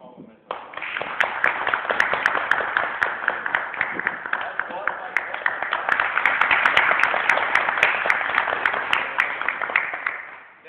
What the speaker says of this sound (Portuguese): Uma salva de palmas mesmo.